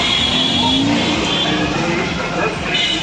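Steady, loud road traffic on a crowded bypass road in India, cars and motorbikes rumbling and passing continuously close by with a sustained broadband roar and no pauses.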